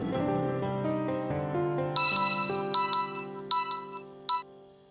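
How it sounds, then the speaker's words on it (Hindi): A phone rings on an outgoing call with a melodic chiming tune that steps through several notes, then thins into separate bright pulses as it fades, heard clearly without speech. "मैं फोन लगाता हूँ।"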